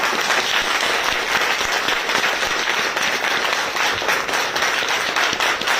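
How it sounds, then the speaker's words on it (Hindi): A seated audience at a training session in Deesa, Gujarat fills the room with sustained, dense applause, many hands clapping steadily at full volume for several seconds. "आपके लिए ताली बजाने की बात कर रहा हूं"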